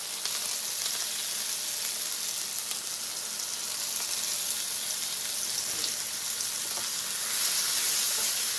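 Food seasoned with salt and pepper sears in a hot pan, giving a steady, bright sizzling hiss that runs unbroken and close, swelling slightly louder near the end, with no talking.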